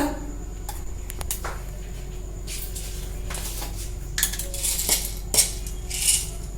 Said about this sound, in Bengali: আর দিয়ে দিচ্ছি এই যে 1 টিস্পুন গোটা গোলমরিচ দিয়ে দিলাম